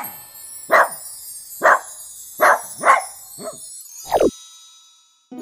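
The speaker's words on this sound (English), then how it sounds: "This is how the dog sounds." A dog barks six times in an uneven series, clear and close, each bark short and sharp with brief gaps between.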